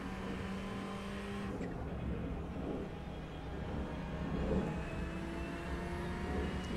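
Ferrari 488 GT3 Evo race car engine droning steadily in iRacing, a moderately loud sustained hum with shifting pitch as the car runs, alone without talk.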